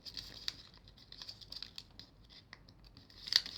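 Paper creased and folded into an origami ice cream cone, with soft crinkles and sharp crisp snaps scattered through, close up and fairly quiet, with a louder crackle near the end.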